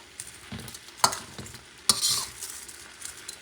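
Vegetables with dry red chili peppers stir-fried in a pan for a Thai stir fry: a steady low sizzle under repeated scraping stirs, with two sharp utensil clacks against the pan standing out.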